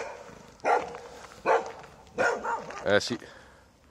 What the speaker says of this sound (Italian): sentite anche il cane, è incazzato